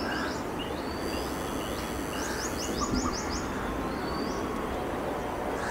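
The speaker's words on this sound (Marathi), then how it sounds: "इथे वेगवेगळ्या पक्ष्यांचे तुम्हाला आवाज ऐकू येत असतील।" Various birds call faintly in a nature park at Dharavi, with thin chirps and short whistled notes above a steady wash of background noise.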